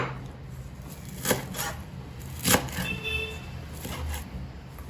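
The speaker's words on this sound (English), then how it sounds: "Then we are going to chop in the green coriander." A knife chops green coriander on a board while a Goan mutton xacuti masala is prepared, a few sharp, scattered knocks standing out over a low background hum.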